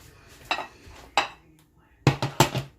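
A sharp knife cuts into bacon-wrapped stuffed chicken on a plate, giving a few brief clinks and scrapes of metal on dishware in quick separate bursts, close and fairly loud.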